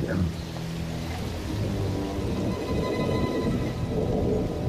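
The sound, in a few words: rain and thunder in the Nephilim video game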